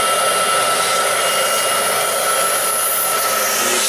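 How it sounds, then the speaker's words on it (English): A shop vac draws air through a fuel line hose fitted to a VW Touareg TDI's engine intake ports, giving a loud, steady whooshing roar with a constant hiss that holds even throughout, close up and alone. "So what I did is I've set up my shop vac, and just put in I think it's a fuel line hose"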